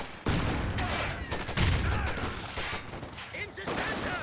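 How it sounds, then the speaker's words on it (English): Grenades and gunfire burst repeatedly in a Company of Heroes 2 match, a dense run of loud explosions and shots with commentary talking over them throughout. "Grenades going out"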